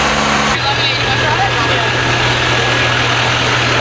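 Chevy pickup with a Duramax L5P diesel idling close by in a steady low rumble; a short burst of louder engine noise opens, then an even idle continues with people talking nearby.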